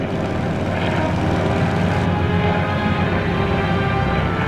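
Mr. Stark's plane in flight, a loud, continuous engine drone with a steady propeller-like roar that holds throughout without a break.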